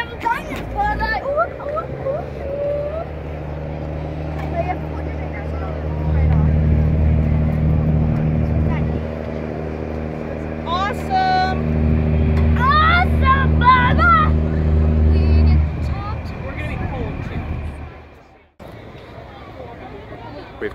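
A river cruise boat engine drones steadily with a low rumble on a night cruise in Shanghai Harbor, joined by crowd chatter and bird-like chirps midway, then cuts off near the end.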